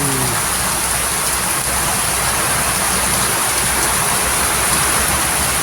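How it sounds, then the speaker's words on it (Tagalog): Heavy rain falls steadily in Leyte, a dense, continuous roar of downpour on surfaces, loud and unbroken from start to finish with no voices. "Panay nga ulan dito eh."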